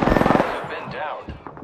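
Apex Legends enemy gunfire, a rapid automatic burst of about eight evenly spaced shots, loud and close, fading as a voice speaks.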